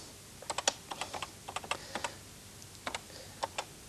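Keys clatter on a home micro computer keyboard, quick uneven taps in short clusters with brief pauses, close and fairly soft, nobody speaking.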